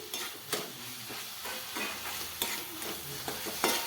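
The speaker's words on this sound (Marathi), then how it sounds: "ह्यामध्ये आता मी टाकते आणि ह्याला आता व्यवस्थित परतून घेते मी" Chillies stir-fry in hot oil for a ridge gourd curry, giving a continuous close sizzle broken by spatula scrapes and taps against the pan, with no speech.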